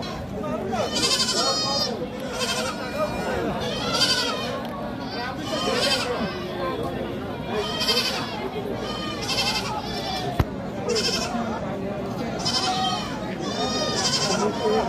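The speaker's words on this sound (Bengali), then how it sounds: "আজকে কটা ছাগল নিয়ে আসছেন চাচা?" Goats at a large rural livestock haat in North Bengal give frequent, overlapping bleats, some close and loud. People talk continuously in the background and a single sharp knock sounds midway.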